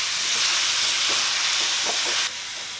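Roti pieces with buttermilk are tempered with cumin in a hot pan, giving a loud, steady sizzle and hiss, with faint stirring scrapes, before the sound drops suddenly near the end.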